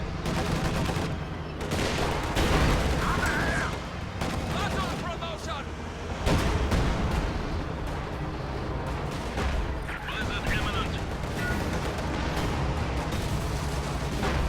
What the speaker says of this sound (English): Incendiary artillery on the field, on the team weapon blob right there